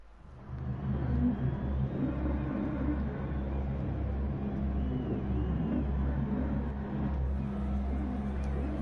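Race car engines in a racing video game at Dragon Trail Speedway make a steady, heavy low drone that holds at a constant level throughout, with no sharp rev spikes.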